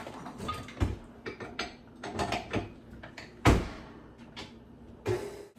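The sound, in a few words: stand mixer with dough hook kneading pita dough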